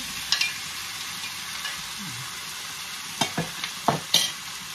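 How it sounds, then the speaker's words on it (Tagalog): Cornstarch-coated chicken breast fries in a pan, a soft steady sizzle with a few brief scraping stirs and clicks near the end. "Tuloy-tuloy lang ang pagpa-fry natin."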